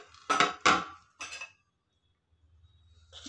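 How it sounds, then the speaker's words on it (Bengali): A lid lifted off a pot of soaked semolina batter for pakan pitha, two or three close metallic clinks and clatters in quick succession, followed by a quiet pause and faint rustling. "ঢাকনাটা খুলে দেখে নেব"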